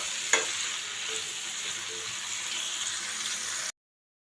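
Sliced bitter gourd (karela) fries in a pan, dhaba style, and is stirred. A steady hiss of sizzling runs throughout, with a single sharp scrape near the start. It is moderately close and cuts off abruptly at the end.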